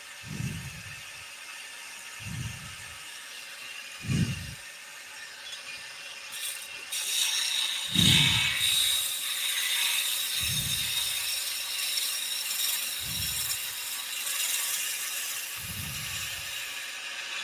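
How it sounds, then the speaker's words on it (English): A skew chisel works a light pull spinning on a wood lathe, giving a series of short, evenly spaced cutting rasps over a steady motor whine, with no voices. "This is all the pressure you need on a skew chisel."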